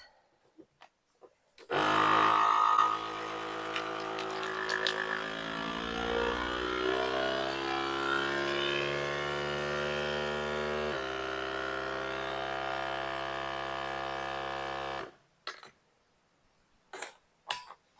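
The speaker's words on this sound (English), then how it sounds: "Vacuum sealed, homegrown green beans for the freezer" A vacuum sealing machine seals a bag of green beans, starting with a loud motor burst, then humming steadily with a slowly shifting pitch for over ten seconds before clicking off.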